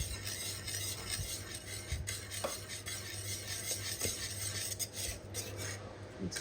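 A spoon scrapes and rubs steadily around a pot of thickening golden paste, a soft continuous rasp with faint clinks, quiet and close with no talking.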